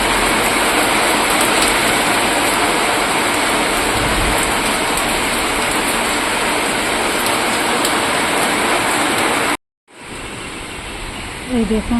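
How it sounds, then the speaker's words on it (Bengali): Heavy rain pours steadily in a dense, loud hiss while the sun is out, continuing without a break before cutting off briefly near the end; a voice speaks over it. "কত জোরে বৃষ্টি হচ্ছে"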